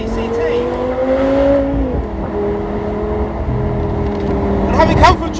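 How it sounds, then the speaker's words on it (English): Audi R8 GT V10 fitted with a Milltek exhaust, heard from inside as a steady engine drone whose pitch drops at a quick gear change, then settles into a lower hum with a brief rise near the end. "if you can hear, the gear shifts are quite smooth"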